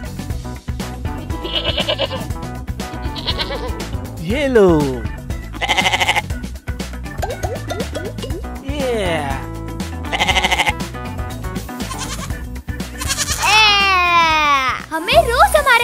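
A goat being fed bleats over and over in loud, wavering cries close by, mixed with a voice and other people talking.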